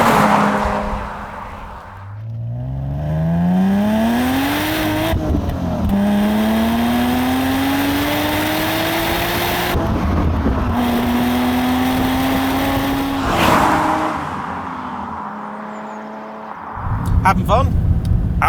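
A BMW Z3 M Coupe engine drones loudly from inside the car as it drives, rising through gears with repeated climbing revs and shift dips, while people talk over it.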